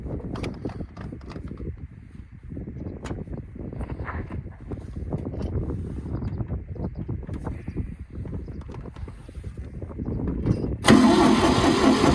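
A tractor engine cranks and runs roughly in a wheat field at sowing time, a steady close mechanical drone with sharp knocks throughout that grows louder near the end.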